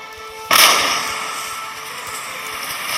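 Troops open fire in Empire Total War, with one sharp, loud musket volley that cracks and then fades through a long rolling echo.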